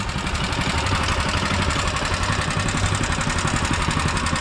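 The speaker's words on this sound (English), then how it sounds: "And we got our grinder over here." A stump grinder engine running steadily nearby during tree and bush removal, a loud continuous throbbing drone with a fast even pulse and no pauses.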